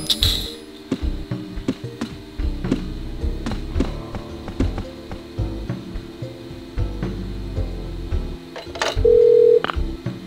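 An old telephone in the Parasite Eve II video game, heard as a series of tapping clicks and short tones like dialing or handling the handset, with a brief steady tone near the end.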